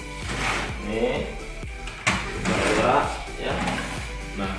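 A drawer slides and bumps on a one-metre phone-credit display cabinet whose drawer is not made of plywood, with several soft thuds and scrapes heard beneath someone speaking throughout.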